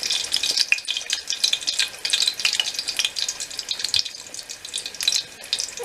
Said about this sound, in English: while we wait for this to fry up more